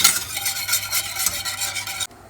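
Chocolate cake mixture bubbles and simmers in a pot on the stove, a steady dense hiss with soft stirring scrapes that runs for about two seconds before cutting off abruptly into quiet.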